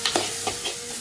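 Jaggery melts in a pan while being stirred for sweet ghavan batter, giving a brief sizzle with a few quick scraping strokes of a spoon, close and fairly soft, without voices.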